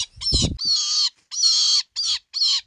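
A young hawk being rescued gives five loud, harsh screeching calls close by, each lasting about half a second, with short silent gaps between them.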